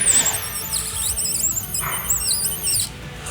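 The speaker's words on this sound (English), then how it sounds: "it's the film hugging the blade, and it's making this small squeegee noise because it's just barely breaking through" A thin, squeaky squeal of a blade scoring 8 mil XPEL vinyl film on a Porsche Cayenne, barely breaking through, wavering in pitch over a scraping hiss, close and fairly loud.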